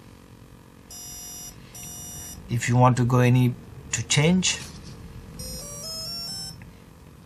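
TowerPro MAG 8 18A ESC giving programming beeps: two short bursts of high electronic tones near the start and a stepped tone sequence at the end, with someone talking in between.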